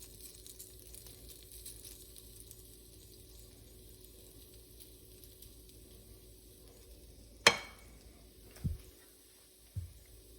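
A small spoonful of potato pancake batter sizzles faintly and steadily in a hot frying pan, followed by a sharp clack and a couple of softer knocks from the pan and utensil.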